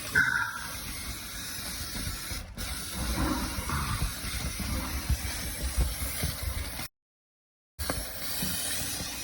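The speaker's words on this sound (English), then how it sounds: "Basically, you spray it in there on the metal, and then it'll stick." A steady hissing aerosol coating sprays onto metal during HVAC maintenance, running on and off for several seconds, close by, with a brief silent break near the end.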